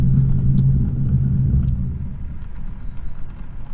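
An OO gauge Cavalex Class 56 model locomotive runs along a large loft layout, giving a steady low motor rumble and hum that stays fairly loud throughout, with faint clicks of wheels on track and no talking.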